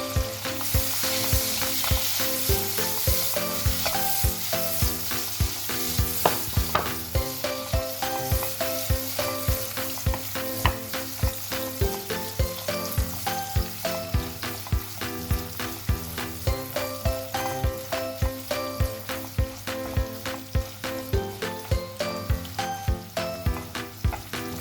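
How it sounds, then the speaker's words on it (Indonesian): Shallots and garlic sauté in a pan until wilted, the first step of a Minang-style green bean and fermented soybean curry. A continuous sizzle is broken by regular stirring scrapes, with music playing throughout. "Untuk bawang merah dan bawang putih ini akan kita tumis sampai layu."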